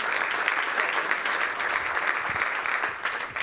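An audience applauds the new president of Watches and Wonders, a dense, steady burst of clapping from a crowd that carries on evenly for a few seconds.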